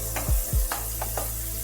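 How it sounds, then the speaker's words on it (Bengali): Turmeric-and-salt-coated prawns fry in hot oil with a soft steady sizzle, broken by two low clunks early on and a few brief scrapes of stirring. "নুন হলুদ মাখিয়ে রাখা চিংড়ি মাছ ভেজে নিতে হবে"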